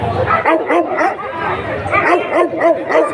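Dogs at a Friday market dog sale in Ain Shams, Egypt, including a mastiff, bark and yip in repeated loud bursts close by, with voices and market chatter mixed in.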